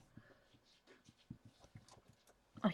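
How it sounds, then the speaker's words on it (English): Dogs making noise indoors during a watercolour painting session, short bursts and panting-like sounds scattered through, with a louder yelp near the end; fairly faint. "Sorry about the dogs making a noise."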